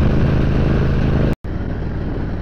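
A Triumph Bobber motorcycle engine runs steadily in gear at road speed, a loud continuous rumble mixed with wind noise and a brief dropout midway.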